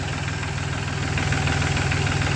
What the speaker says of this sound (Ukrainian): Тракторець на 3 циліндри, 24 кінські сили, повний привід.